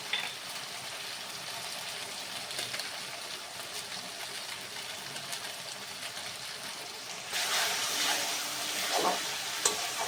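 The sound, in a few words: ground spices with Kashmiri chili powder frying and stirred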